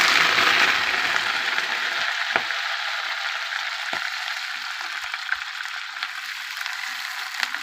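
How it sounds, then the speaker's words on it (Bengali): Potatoes fry in hot oil with cumin seeds, giving a bright, dense sizzle that fades slightly over time, broken by a few sharp clicks of a utensil against the pan. No one speaks. "এখানে জিরে ফোড়ন দিয়ে দিয়েছি আলুটা ভেজে নিচ্ছি"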